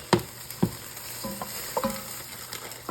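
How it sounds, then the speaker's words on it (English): Green lentils poured into a Dutch oven of frying onions for lentil soup, giving a few sharp rattling hits and stirring scrapes over a steady low sizzle, close and fairly loud. "now we're going to add 2 cups of lentils"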